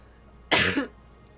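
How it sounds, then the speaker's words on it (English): A single harsh cough from someone at the tail end of COVID bursts out close to the mic, lasting about a third of a second, with quiet room tone before and after. "Sorry for the coughing."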